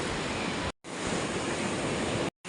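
Ocean surf on Benaulim beach in South Goa roars as a continuous, loud wash of breaking waves, broken by two brief, abrupt dropouts to silence.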